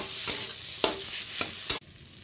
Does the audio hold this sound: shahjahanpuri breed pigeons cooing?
no